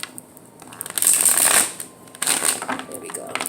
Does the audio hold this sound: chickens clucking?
no